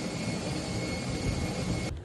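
A plane moving along a flooded airport runway makes a loud, steady roar of jet engine and rushing water, unbroken for about two seconds before cutting off abruptly.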